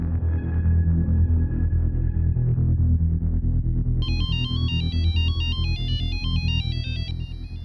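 An electronic ringtone melody plays in bright repeating beeps, coming in halfway through over a loud, dense background of music or rumble.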